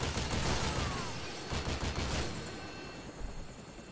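Dense, continuous gunfire and explosive rumble from a chopper gunner attack in Modern Warfare 2 (2009), a steady wash of rapid shots and noise that slowly fades, with no voices.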